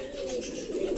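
Fantail and king pigeons cooing in a loft, a soft, low, continuous murmuring coo close by, with no voices.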